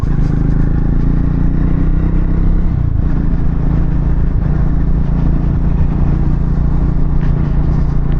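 Triumph Speed 400 motorcycle ridden at about 50 km/h over a broken, bumpy road, its engine a steady low drone mixed with rattling and clatter from the rough surface, loud and continuous with no talk.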